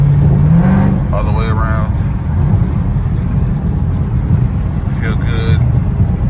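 A street car on 22-inch wheels cruises home on the freeway, its engine and road noise a loud, constant drone inside the cabin while someone speaks briefly.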